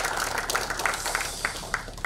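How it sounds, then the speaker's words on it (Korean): A crowd applauds a party leader at a Liberty Korea Party lawmakers' assembly, with dense, steady clapping throughout the short moment. "우리 대표한테 박수 한번 좀 해주시겠습니다"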